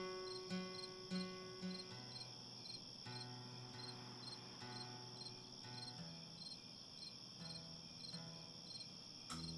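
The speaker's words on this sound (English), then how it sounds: "Time for some crickets, I think." Crickets chirp steadily in a dense, continuous, fairly soft chorus, with pulsing trills layered throughout and no voices.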